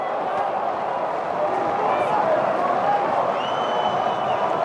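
Stadium crowd applause in a football video game, a steady broad wash of clapping and crowd noise running throughout, with faint whistle-like tones above it.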